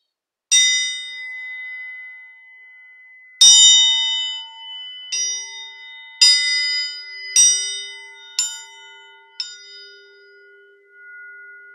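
A giant all-metal screw hangs and is struck repeatedly, giving bright bell-like dings with long ringing decays, seven strikes at uneven intervals, later ones softer and shorter, alone with no talk.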